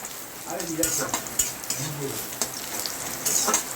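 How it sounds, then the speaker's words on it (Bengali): Bitter gourd pieces frying in hot oil, a close, lively sizzle broken by repeated scraping and stirring strokes from a utensil. "এই যে আমার উস্তেগুলো ভাজা হচ্ছে"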